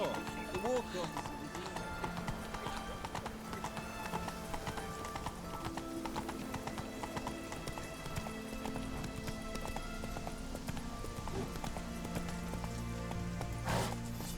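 Horse hooves clip-clop at a steady galloping rhythm through a whole ride in The Witcher 3, with a neigh heard at one point and people speaking over the hoofbeats.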